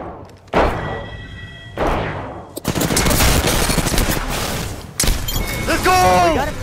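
Gunfire in a close Apex Legends firefight, with sharp single shots followed by rapid automatic bursts rattling loudly and continuously, booming impacts breaking in, and an excited voice talking over the shooting.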